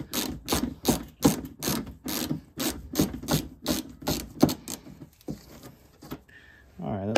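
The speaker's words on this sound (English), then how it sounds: "little quarter inch ratchet and hit these two screws here" Quarter-inch ratchet works screws loose on a 1995 Mustang GT, a rapid run of close, rasping clicks in regular bursts that stop, followed by a brief squeak.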